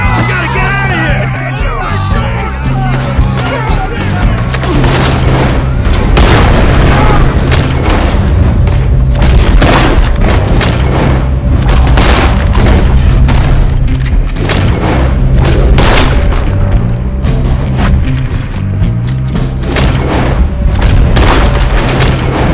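Gunfire rattles through a Red Dead Redemption 2 shootout, with dense, loud repeated shots and booms over a steady game soundtrack and shouted voices.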